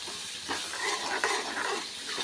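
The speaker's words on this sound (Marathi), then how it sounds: "पाहू शकता मसाला मस्तपैकी तेलावरती परतला गेला आहे।" Chole masala paste sautés in hot oil as it is stirred, a moderate, continuous sizzle broken by soft scraping strokes of the spoon, with no talking over it.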